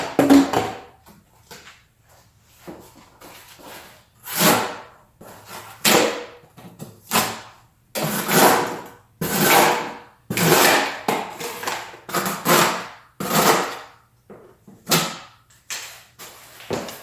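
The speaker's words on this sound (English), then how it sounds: "we're also going to be cutting some cardboard using our Scandi grind and convex grind" A knife with a Scandi grind slicing through cardboard, a run of repeated rasping cuts in separate strokes about one per second, close and fairly loud with quiet gaps between them.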